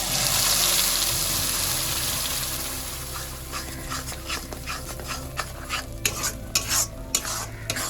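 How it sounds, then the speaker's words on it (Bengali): Shrimp paste frying with Kashmiri chilli powder in mustard oil: a loud sizzle that gradually fades into a run of close, rhythmic spatula scrapes and taps in the pan. "এবার এটাকে আমি ভালো করে ভাজতে থাকবো যতক্ষণ না এই জলগুলো শুকাবে।"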